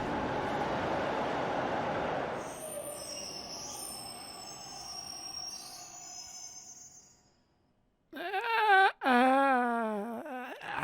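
A rumbling subway train in a video game, The Arcane River Story, passes for a couple of seconds and fades into quiet hiss, then a high whimpering voice cries out.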